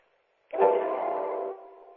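An instrument sounds a single sustained chord, heard through a telephone line, struck sharply and ringing evenly for about a second before cutting off and fading.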